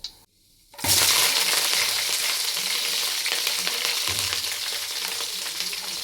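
Sliced big onions with fennel, leaves and dried red chillies hit a hot pan and sizzle loudly after a brief quiet moment, a dense continuous crackling fry close up.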